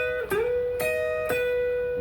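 Guitar melody with three picked notes roughly half a second apart, each slid and then held to ring out, clear and alone with no voice.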